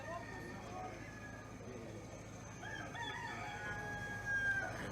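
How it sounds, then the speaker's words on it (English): Roosters crow in the distance in St. Lucia, faint drawn-out calls heard under people talking over a steady background hum. "We got roosters."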